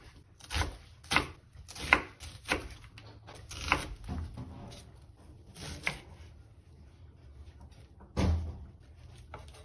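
A knife slices an onion on a cutting board for homemade tomato soup, making about nine sharp, separate chops at uneven intervals with quiet room hush between them.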